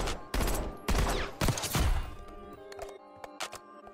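A burst-fire weapon in Warzone fires several loud rapid bursts in quick succession, then gives way to scattered clicks and lighter mechanical handling noises.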